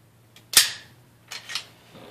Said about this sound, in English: Went ahead and shot 150 rounds minimum.